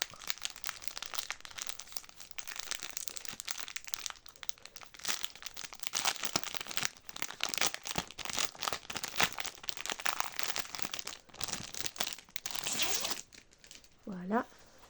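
Crinkly wrapping being torn open while unboxing a package from a small boutique, a steady rustling and crackling close by for most of the moment, with a short tonal sound near the end.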